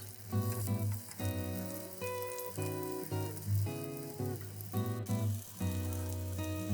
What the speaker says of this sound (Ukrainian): Смажимо наші котлети на змащеній олією пательні до готовності.